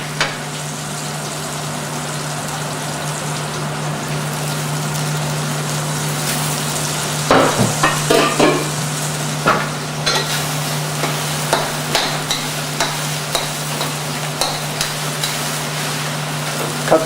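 Hot oil sizzles on a kitchen grill under a steady hum, with sharp pops and crackles bursting in irregularly, loud and close.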